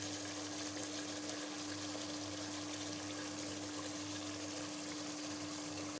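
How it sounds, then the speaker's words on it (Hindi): Ghee pouring into a karahi while making chicken Balochi karahi, a steady close liquid trickle with a constant hum over it throughout. "ये देखिए मैं घी डाल रही हूँ।"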